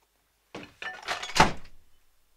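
A door is handled as someone walks out, giving a few quick thumps and clattering knocks over about a second and a half, then silence. It sounds close and moderately loud, with no talking.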